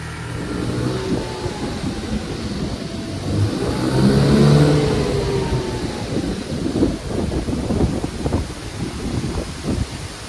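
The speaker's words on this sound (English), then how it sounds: "I'm just gonna go really slow up and down my block." A Chinese 150cc motor scooter with no brakes putters along at low speed, its engine rising and falling gently under wind rumble against the microphone.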